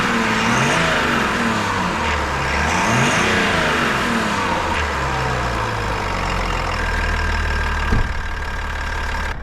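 A GMC Sierra 1500 pickup with the 3.0 Duramax diesel runs steadily nearby, a low engine drone carrying a faint whistle, with a brief bump near the end and no one talking.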